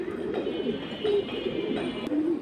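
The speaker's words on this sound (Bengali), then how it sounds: "এগুলা এক হাত সাইজের কবুতর" Several pigeons cooing nearby, soft repeated low coos rising and falling over a steady murmur of birds, with a faint tick or two in the background.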